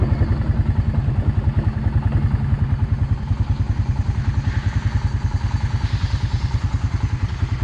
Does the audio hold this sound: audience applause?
no